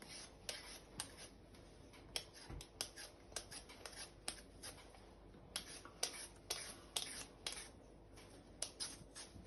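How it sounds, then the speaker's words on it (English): A knife chops potatoes on a board in quick, irregular taps, crisp and close, with brief pauses between bursts. "Then you'll finally dice these into little pieces."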